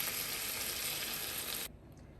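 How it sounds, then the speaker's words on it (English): Canned coconut milk is poured slowly into a pot of Trinidad-style chicken and beef pelau with pigeon peas, making a steady hissing sizzle that stops abruptly, leaving a quiet background. "I have a can of coconut milk, and I'm just going to slowly begin pouring"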